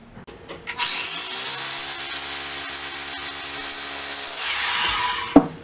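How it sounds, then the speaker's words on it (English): A loud rotary hammer drills into a wall steadily for about four seconds, with a harsh grinding, hammering buzz, then stops abruptly with a sharp clunk. "I'm going to drill that hole with this, a rotary hammer."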